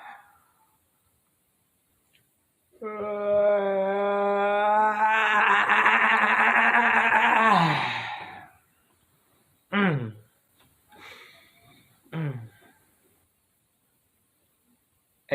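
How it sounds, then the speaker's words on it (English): A man lets out a long, loud, drawn-out yawn with a rising and falling vocal tone, followed by a few shorter voiced breaths and brief talking in a quiet room. "Every time I yawn, you yawn"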